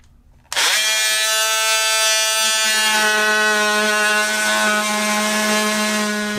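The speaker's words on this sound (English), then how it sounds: "So now I'm going to take an oscillating tool." Oscillating multi-tool cutting out a panel opening during a solar installation, a sudden loud high-pitched buzzing whine that starts abruptly and holds steady and close for several seconds, with no speech.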